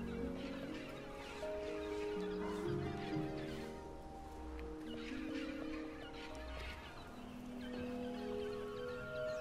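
Giant birds in the video game Broken Age honk steadily, a dense overlapping chorus of goose-like calls that stays fairly loud and continuous, with no speech over it.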